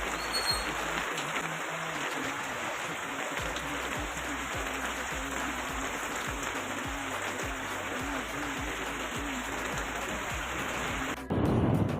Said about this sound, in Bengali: এখন বৃষ্টি শুরু হয়ে গেছে, অনেক জোরে বৃষ্টিটা হচ্ছে।